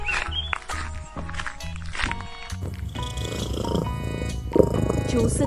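A lion cub growls in a low, rough, rumbling rasp that swells and holds through the second half, after a stretch of tonal, music-like sound.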